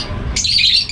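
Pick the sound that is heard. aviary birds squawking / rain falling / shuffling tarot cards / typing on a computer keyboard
aviary birds squawking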